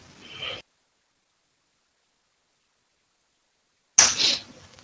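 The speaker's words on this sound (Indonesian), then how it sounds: "Nggak tahu kok tiba-tiba batuk terus ya." A person coughs in short, harsh bursts, one just before a long stretch of silence and another sharper, louder bout after it, close to the microphone.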